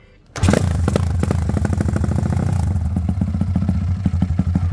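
A 150cc motorcycle fitted with a Hornet piston starts up and settles into a loud, steady, close-up idle with a rapid, even firing rhythm and clattery mechanical noise.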